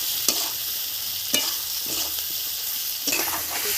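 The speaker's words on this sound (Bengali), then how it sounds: "দেখুন আলুটা খুব সুন্দর করে ভেজে নিয়েছি, আলু আর পেঁয়াজ।" Potatoes and onion fry with turmeric and chili powder in a pan, giving a loud, even sizzle with a few sharp scrapes of a stirring utensil.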